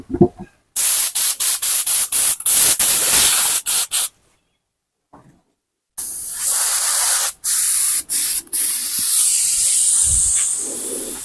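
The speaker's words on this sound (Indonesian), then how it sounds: "Untuk tahap awal kita spray tipis-tipisan dulu." A spray gun applies Mowilex finish to furniture in a rapid string of short hissing bursts, then, after a pause, one long steady spray broken by a couple of brief stops. The hiss is loud and close.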